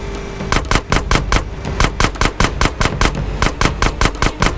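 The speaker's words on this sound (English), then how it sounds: "Let me shoot the wheels." Rapid gunfire in the GTA San Andreas video game aimed at a car's wheels, a loud, close, steady burst of evenly spaced automatic shots lasting several seconds with no talk.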